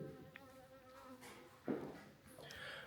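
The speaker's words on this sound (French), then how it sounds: "On dirait un abeille." A faint, steady bee buzz hums in a quiet room of a house in Guatemala, with a brief louder thump partway through and some soft background noise.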